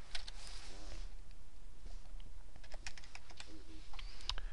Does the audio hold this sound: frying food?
no